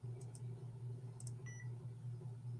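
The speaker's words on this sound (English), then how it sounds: "I heard the beep. You did hear the beep." A faint, short electronic beep over a steady low appliance hum, with a few quiet ticks earlier.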